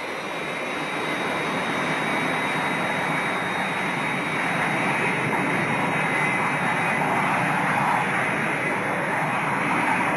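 Steady broad roar of an airliner's jet engines during its descent into Nice Airport, a continuous loud wash of noise holding level throughout with no other sounds.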